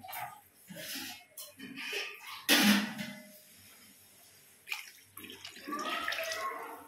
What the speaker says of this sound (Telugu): ఓకే, 2 గ్లాసులు వాటర్ అయితే పోసాను.